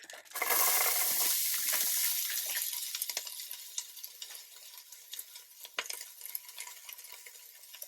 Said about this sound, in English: add the vegetables and make them feel the heat